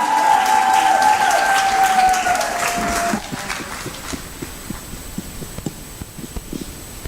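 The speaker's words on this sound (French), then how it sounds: "Pendant qu'elle avance, on acclame très fort pour le Seigneur." Applause and cheering from a church congregation at a celebration, a broad, dense roar with tonal music over it for three seconds, then thinning into scattered claps and cheers.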